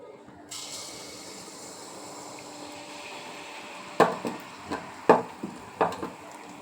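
Semolina (suji) pitha batter drops into hot oil and a steady sizzling hiss starts abruptly, then continues while several sharp utensil knocks sound near the end.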